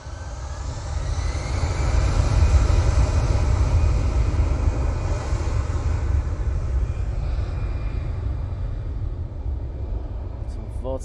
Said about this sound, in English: we will go down in anticipation of the 777 from Qatar